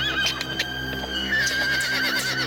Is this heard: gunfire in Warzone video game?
no